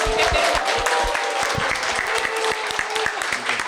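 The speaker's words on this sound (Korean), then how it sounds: "박수로 모시겠습니다" A live studio audience at a Korean talk show event claps loudly and steadily to welcome a surprise guest, a radio and economics program host, with dense continuous applause throughout.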